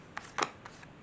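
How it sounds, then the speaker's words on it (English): Large Golden Art Nouveau tarot cards being overhand shuffled, giving a few soft, papery riffling bursts with brief gaps between them, quiet and close with no talking. "I'll just give this one more go because I've done at least 2 overhand shuffles"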